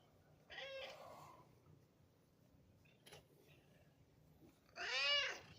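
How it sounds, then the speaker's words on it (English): Two meows come from a 15-year-old cat in a quiet room, one near the start and a louder, drawn-out one at the end, with a soft faint sound between them. "You've been a tough cat for 15 years now,"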